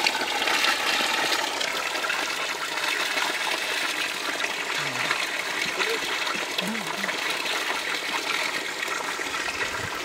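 Water flows steadily from a spout outdoors, a continuous close hiss and gush running throughout.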